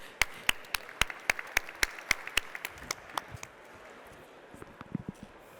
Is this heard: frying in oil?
no